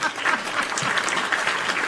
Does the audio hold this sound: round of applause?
yes